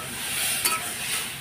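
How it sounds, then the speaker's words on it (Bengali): Masala stirring and frying in a pan, a short burst of soft sizzle with a faint spoon scrape at the middle, close and brief, no voices. "আমি এটা একটু নেড়ে চেড়ে নেবো ভালো করে"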